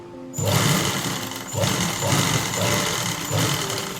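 A sewing machine stitches a trouser pocket in a steady close run after a brief quiet start, its motor pulsing in a regular rhythm with no talking.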